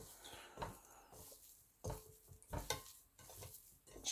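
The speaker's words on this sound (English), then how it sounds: "just give it a mix" Keema mince is stirred in a pan, giving soft scraping and shuffling strokes in irregular bursts over a faint sizzle, close by and fairly quiet.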